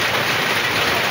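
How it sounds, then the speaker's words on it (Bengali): Heavy rain pours down outside a roadside shop used as shelter, a dense, even hiss of falling water that fills the whole short stretch. "খুব বৃষ্টি হয়েছে, বৃষ্টি ছাড়বে কি সেটাও জানি না।"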